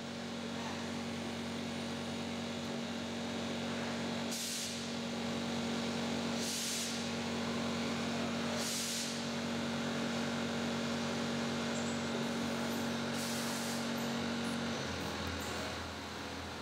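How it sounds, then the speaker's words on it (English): Machine tools cut a spinning brass rod into a scuba regulator body, giving a steady mechanical hum with a constant tone and several brief hissing cuts spaced a couple of seconds apart. "Various tools precisely machine the metal into a regulator body."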